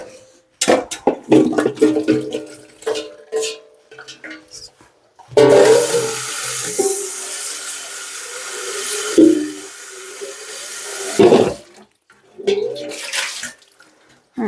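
Tap water gushing into a kitchen sink while vegetables are rinsed, in bursts of splashing and a long steady stream of running water, close by, with brief handling noises between.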